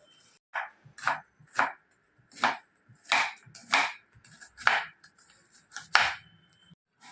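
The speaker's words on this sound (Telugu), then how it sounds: "ఉల్లిపాయలు కట్ చేసుకున్నాను" Around ten sharp knife chops through onions on a cutting board, close and fairly loud, coming in an uneven but steady rhythm with short pauses between strokes.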